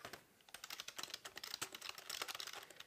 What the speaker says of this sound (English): It sounds like you're tap dancing on a tin can whenever you're typing on this thing.